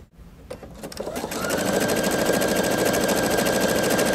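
A Pfaff Creative 3.0 sewing machine starts up after a few clicks and then stitches steadily along a line, a rapid, even mechanical chatter that builds within the first second and continues loud and close.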